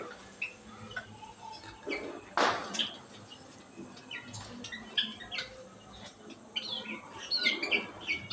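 Pet parrots and java birds chirp in the dark, scattered faint tweets and calls rising over a low, noisy background.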